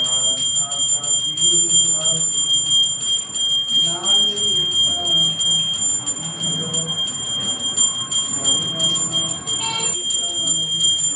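A bell rung continuously during Hindu aarti worship after a food offering, a bright steady ringing heard close and loud under voices chanting or singing through the whole stretch.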